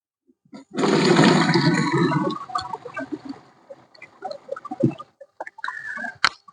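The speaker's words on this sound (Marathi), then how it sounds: "ह्या पंधरा लिटरच्या पंपात आपण थोडं पाणी घालूया आधी" Water gushes loudly into a 15-litre sprayer pump for a couple of seconds, then trickles and splashes with scattered knocks and plastic clatter.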